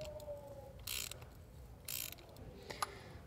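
A ratchet clicks in short bursts while loosening a spark plug from the cylinder head of a Volvo S60 (P3 chassis), with two close, steady runs of clicking followed by a single sharp metallic tick.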